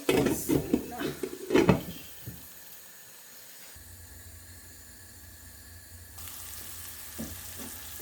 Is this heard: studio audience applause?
no